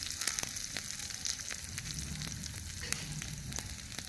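Mustard seeds, cumin and chili frying in hot oil in a miniature kitchen pan, a steady close crackling sizzle dotted with tiny pops throughout.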